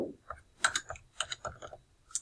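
Quick, light clicks of typing on a computer keyboard at close range, an irregular burst of keystrokes with small pauses, quiet and without speech.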